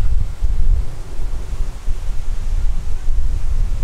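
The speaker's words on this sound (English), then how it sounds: "Oh god, the wind." Wind buffeting a camera microphone outdoors while vlogging, a loud continuous low rumble with gusty surges throughout and no talking.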